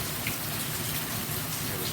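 Rain falls steadily, a dense, even hiss of drops on surfaces that stays constant and moderately loud throughout, with nothing else standing out.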